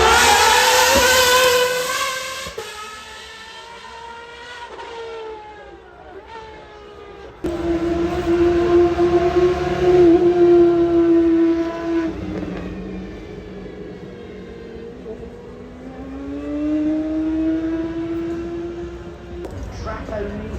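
A Ferrari 499P hypercar at the Goodwood Festival of Speed, its engine note rising and falling in loud revving sweeps as it passes close by, with a voice talking over parts of it.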